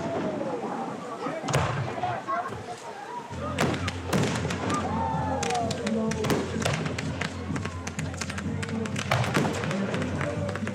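Fireworks bursting overhead during a ten-minute outdoor show after a water-slide party, with sharp cracks and thumps popping steadily against a busy background of crowd voices and chatter.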